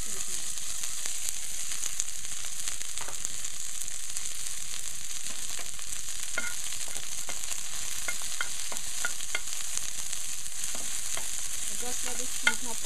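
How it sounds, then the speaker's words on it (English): Seasoning sizzles steadily in hot oil for beef provision soup, a constant close frying hiss with scattered crackles and spatters throughout, no one talking. "So the oil is hot, so I'm gonna throw the seasoning."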